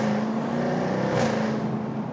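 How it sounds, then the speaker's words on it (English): Exhaust of a 575 hp Jaguar F-Type R Roadster holds a steady, loud idle rumble with a low droning tone and a slight swell midway, with no speech over it. "What do you think about that exhaust note?"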